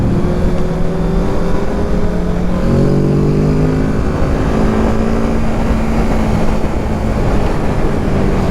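A 2020 Kawasaki Z650 engine heard while riding, a steady loud drone with shifting tonal whine and constant wind rush, no pauses.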